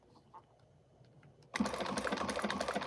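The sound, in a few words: sewing machine stitching and back stitching fabric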